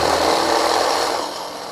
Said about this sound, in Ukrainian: Я виставив зразу ж на максимум. Пробуємо, як, скільки по ватах він видасть.